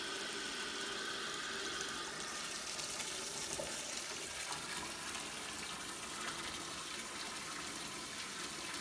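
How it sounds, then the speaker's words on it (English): Water gushes steadily from a bathtub tap turned up harder to fill the tub, a constant broadband rush that holds at one level throughout with no talk. "I'm going to turn the water on a little bit harder and see what we get with just the water pressure."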